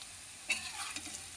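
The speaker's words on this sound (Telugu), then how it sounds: "ఎర్రగా వేగిన తర్వాత" Food frying in a pan until browned, a soft steady sizzle with a brief stirring scrape midway and a few light clinks, close and fairly quiet with no talk.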